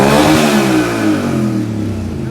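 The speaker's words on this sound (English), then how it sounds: "Rev it up." A Kawasaki Brute Force 750 ATV engine revs hard and loud up close, its steady mid-pitched roar holding high before easing slightly, with no one talking over it.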